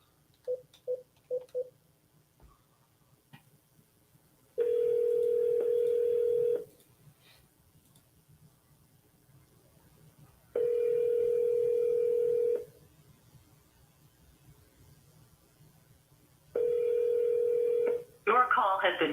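A telephone call rings out with a few short beeps, then three long, evenly spaced ringback tones, and a burst of sound at the very end as the line connects.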